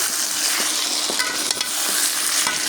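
Quail meat stir-fried in oil, a loud constant hiss of sizzling with a few sharp scrapes and knocks of a spatula against the pan.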